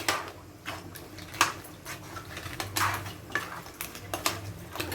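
A spoon stirring crab gravy in a metal pot, with repeated soft scraping and clinks against the pot in an uneven rhythm, fairly quiet and close, faint bubbling beneath.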